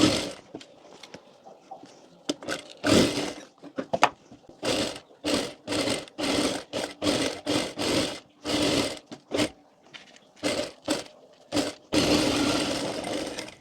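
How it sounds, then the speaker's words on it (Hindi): A sewing machine stitches the shoulder seam of a Sabyasachi-style blouse in short whirring bursts broken by pauses, close and fairly loud, with a longer final run. "यहाँ पर शोल्डर पर सिलाई लगा लेंगे।"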